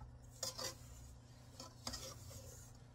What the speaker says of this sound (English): I want to scrape the side of the bowl down